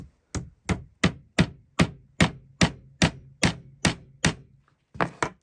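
A hammer drives a copper nail into wood about a dozen times at a steady, even pace, each blow sharp and close, then two quicker final taps.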